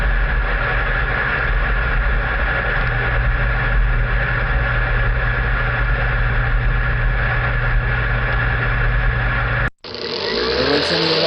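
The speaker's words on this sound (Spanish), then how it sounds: "el sonido del horno microondas." A kitchen microwave oven runs with a constant droning hum and whir for about ten seconds, then the sound cuts off abruptly and shifts to a brief different noise.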